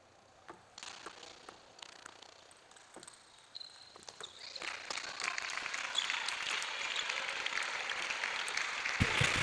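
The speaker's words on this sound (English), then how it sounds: "keeps the crowd applauding" A crowd at the East Africa Regional Championship 2024 table tennis evening session applauds after a rally, scattered claps at first that swell into sustained, fairly distant applause.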